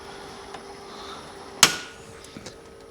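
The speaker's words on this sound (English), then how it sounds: "And I broke the tap off." A cheap tapping machine snaps a tap in the workpiece with a single sharp metallic crack, close and loud, over a faint steady machine hum and a few quieter ticks.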